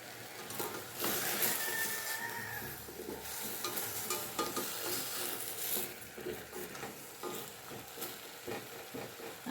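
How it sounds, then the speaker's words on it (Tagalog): Vegetables sauté in a little oil with garlic and onion, giving a soft continuous sizzle under gentle stirring and scraping that rises and falls. No one speaks. "Gisa-gisa lang ng konting mantika at saka bawang sibuyas."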